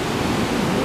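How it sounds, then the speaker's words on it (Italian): Ocean waves break and foam near the end of a pier in Los Angeles, open sea on every side, giving a loud, steady wash of surf with no voices. "Questa è tutta la schiuma delle onde."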